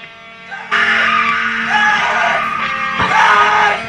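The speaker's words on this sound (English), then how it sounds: "Right, we've got some screams, yeah?" A band vocalist lets out a loud, raw scream during a studio vocal recording session, one sustained harsh yell that rises and strains before a second burst near the end.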